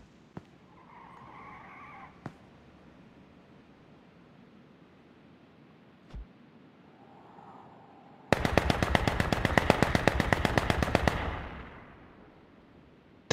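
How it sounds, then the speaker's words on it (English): Automatic gunfire in a PUBG or H1Z1 battle royale game: after quiet stretches with a few isolated sharp shots, a loud rapid burst of machine-gun fire rattles for about three seconds, then cuts off. "Some pretty serious shooting."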